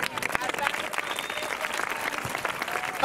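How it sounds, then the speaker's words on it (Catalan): An audience at a street theatre performance by Tornavís Teatre claps in a lively, continuous round of applause from many hands, with voices mixed in. "Un aplaudiment que cada dia"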